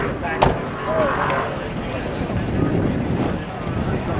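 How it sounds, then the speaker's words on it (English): Steady wind buffets the microphone in a broad, rumbling rush that persists throughout, with brief louder gusts near the start. "it's kind of windy out here today"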